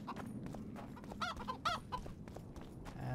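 Chickens clucking in the Witcher II: Assassins of Kings video game, a few soft repeated clucks over a constant low ambient bed of game background noise.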